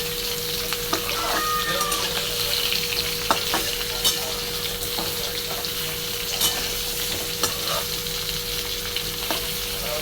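Bitter gourd frying in a pan under a lid, giving a loud, dense and continuous sizzle with a few sharp crackles and pops scattered through it and no talking.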